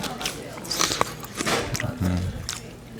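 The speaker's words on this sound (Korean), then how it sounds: "씹는 소리를 ASMR로 한번." Crunchy chewing and biting close to the microphone, ASMR style, while eating Gangwon-style sujebi dumpling soup with potato, in a few irregular bursts.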